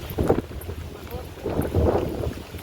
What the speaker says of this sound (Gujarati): પવન પણ એકદમ છે બહુ જ